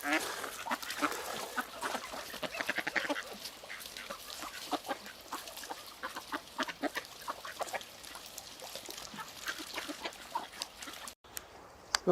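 Ducks quacking along a river, a dense run of short calls, some close and some farther off, with occasional honks mixed in over outdoor background noise.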